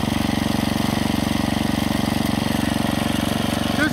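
A rebuilt Clinton B1290 small engine runs steadily at a fast, even putter, loud and close, with no speech over it.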